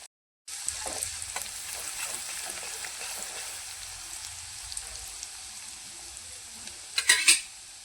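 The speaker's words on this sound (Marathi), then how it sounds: "आपण मिक्सरमधून काढलेलं लसूण खोबरा आणि कोथिंबीर हे चांगलं परतून घेऊया" A paste of garlic, coconut and coriander with cumin fries in hot oil, giving a steady close sizzle with light stirring scrapes, a sharp crackling burst near the end, and no talk.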